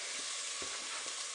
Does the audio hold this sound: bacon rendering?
yes